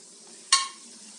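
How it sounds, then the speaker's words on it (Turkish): Lokma dough balls drop into hot frying oil and are stirred with a skimmer, giving a sudden loud sizzling burst that fades over a fraction of a second against a quiet background. "hiç durmadan kevgirimizle çevire çevire hepsi aynı renk oluncaya kadar çıtır çıtır oluncaya kadar kızartıyoruz"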